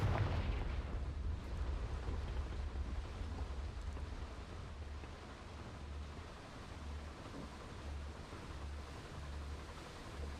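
Confringo fire spell in Hogwarts Legacy on Nintendo Switch, a deep booming blast at the start that rolls into a sustained low rumble and crackle, fairly quiet and fading slowly with no talk.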